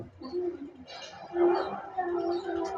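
Diamond doves, a nesting pair with eggs, giving soft low repeated coos, faint and close, with some background noise.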